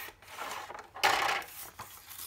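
Paper being cut down to size for an envelope punch board pinwheel box, soft scraping and slicing strokes, one louder stroke in the middle, close and quiet.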